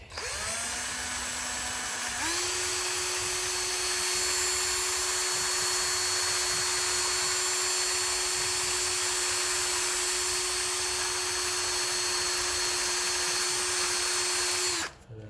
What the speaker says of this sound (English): My air going here beside me, so give it all just a little blow dry.